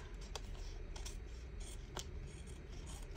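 Scissors cut along the edges of a paper collage strip, snipping several times in short, close, quiet strokes over low background hum, with no voices.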